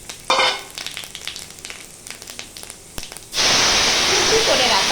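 Five-spice, dried red chilies and bay leaf hit hot oil with a sudden loud, steady sizzle that fills the last stretch, after a quieter spell of faint clinks and stirring.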